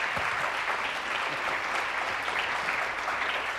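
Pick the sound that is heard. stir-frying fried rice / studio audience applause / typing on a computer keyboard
studio audience applause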